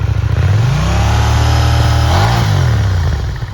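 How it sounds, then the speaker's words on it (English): A KTM Duke 790 motorcycle's 799cc LC8 parallel-twin DOHC engine revs loudly and close: a steady, throbbing note climbs in pitch and then eases back down. "This bike is powered by a 799cc LC8 parallel twin-cylinder 8 valves DOHC engine"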